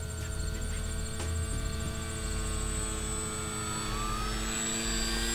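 An Origin Hobby Wilga-2000 RC plane drones overhead on its maiden flight, a continuous buzzing motor whine with shifting pitch that stays fairly steady against outdoor background noise.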